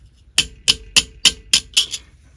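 A hammer strikes folded metal sheet during foldforming: six sharp, ringing blows at a steady, even pace, close and loud, with no voices.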